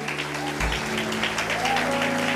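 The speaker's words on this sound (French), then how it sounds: "Est-ce qu'on peut se prendre 30 secondes d'acclamation?" Steady applause from a crowd, dense and continuous clapping throughout with a low rumble beneath, fairly close and moderately loud.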